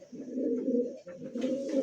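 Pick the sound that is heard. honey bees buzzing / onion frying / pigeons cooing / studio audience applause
pigeons cooing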